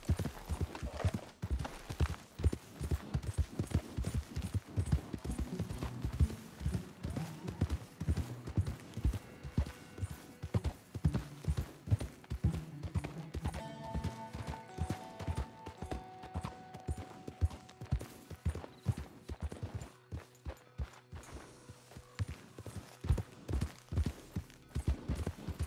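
Horse hooves gallop in a fast, steady clip-clop rhythm through Red Dead Redemption 2, loud and continuous over game ambience, with brief musical tones and a faint gunfire-like crack partway through.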